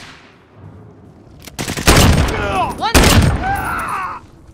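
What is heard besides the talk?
cluster strike explosions and gunfire in the video game Call of Duty Warzone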